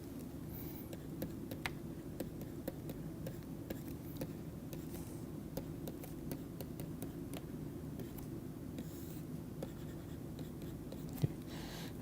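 Pen or marker writing equations on a board during a lecture on mass and energy balance, faint scratchy strokes and light taps over a steady low room hum, with no talking.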